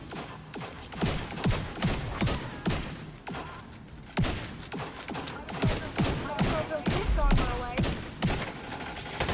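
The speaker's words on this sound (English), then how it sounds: "The boss is using a minigun on me" A boss fires a minigun in a video game: repeated rapid volleys of sharp, booming shots in quick rhythmic bursts, loud and close, with brief pauses between strings of fire.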